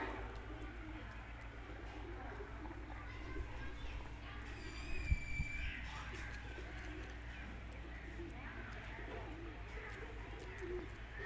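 Pigeons coo softly in the background, with a brief bird call partway through, over steady outdoor ambience and a low hum, while people talk nearby.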